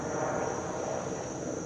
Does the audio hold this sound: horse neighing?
no